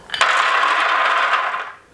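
Shelled hazelnuts poured onto a paper-lined oven baking tray make a dense, continuous rattling clatter that rises sharply, holds for nearly two seconds, then tapers off close up.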